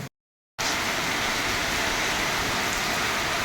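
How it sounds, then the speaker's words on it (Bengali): Heavy rain pours down in a dense, steady roar of broadband hiss, loud and close, starting abruptly after a brief moment of silence and continuing unbroken. "কি বৃষ্টি নেমেছে রে বাবা সকালবেলা কম ছিল এখন মানে অতিরিক্ত হচ্ছে"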